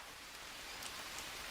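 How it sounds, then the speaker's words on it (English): Steady rain falls in the jungle survival game Green Hell, a dense, even patter with no breaks across the short stretch and no speech. "I think it works better with rain, which luckily we have here"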